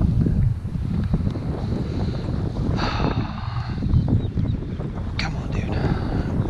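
Strong wind buffets the microphone while a kayak drifts on the windy California Delta, a loud, constant roar with water sloshing underneath, and someone briefly speaks over it.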